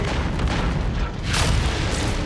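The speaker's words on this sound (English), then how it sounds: "He's like getting pummeled by so much gunfire." Mechs trade heavy gunfire and explosions in MechWarrior 5: Mercenaries, a dense, loud barrage of booms and blasts with one sharp burst partway through, continuous and close.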